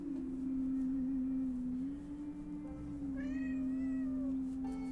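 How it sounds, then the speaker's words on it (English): A cat meows insistently, a drawn-out complaining call rising near the end, heard close by over a steady low hum. "If you hear that, that is my cat Bit, also known as the co-host."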